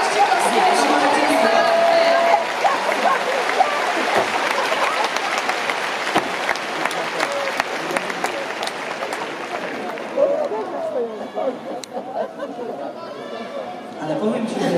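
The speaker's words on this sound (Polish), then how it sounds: "Wielkie, wielkie brawa dla Kuby Waszczykowskiej!" An arena crowd in Kraków at a benefit tennis evening applauds Kuba Błaszczykowski, sustained clapping and cheering mixed with chatter that thins toward the end while voices continue.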